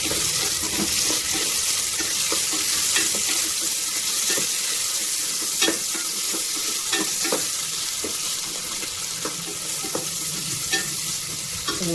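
Onions and green chillies frying in a pan with salt added for mushroom biryani, a dense continuous sizzle with frequent spoon scrapes and taps throughout, close and steady, no talking.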